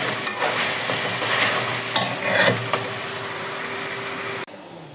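Crispy homemade French fries being lifted out of hot frying oil with a slotted spoon: steady close sizzling and bubbling with scraping stirs, ending abruptly as the fries leave the oil.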